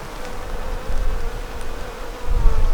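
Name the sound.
bees humming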